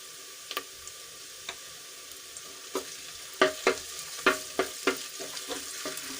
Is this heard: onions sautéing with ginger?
yes